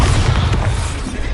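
A Bombarda spell explodes in the video game Hogwarts Legacy, a loud, dense, rumbling blast that roars without a break for the whole moment, with no voices.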